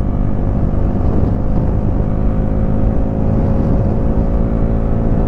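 Bajaj NS400Z motorcycle engine held at high revs after a downshift, a loud, sustained buzzing drone that stays steady and close throughout.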